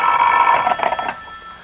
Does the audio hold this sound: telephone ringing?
yes